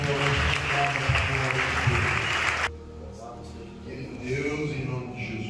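A church congregation applauds in a dense, sustained burst of clapping that stops abruptly halfway through, leaving only room tone and faint voices.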